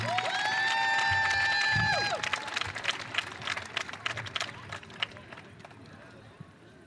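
Audience applause at an evening show jumping competition, scattered claps and a crowd murmur rising around a loudspeaker voice, then thinning into faint, sparse clapping.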